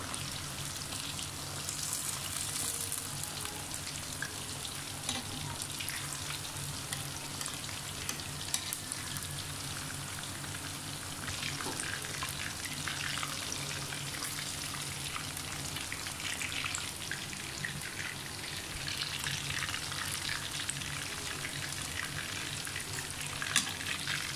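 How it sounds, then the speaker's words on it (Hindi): Masala fish fries steadily in hot oil in a pan, a continuous close crackling sizzle with scattered pops, with no talking over it. "अब इस दूसरी साइड में हम पाँच मिनट इसको फ्राई करेंगे"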